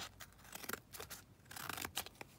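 Scissors snip through fabric while a journal card is trimmed, a quiet run of crisp close cuts with brief pauses between them.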